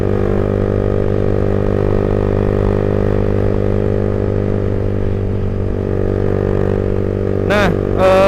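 A Suzuki GSX-R 150 sport motorcycle being ridden, its engine giving a steady droning hum with a constant buzzing note and some clatter, loud and close, with a short squeaky sound near the end.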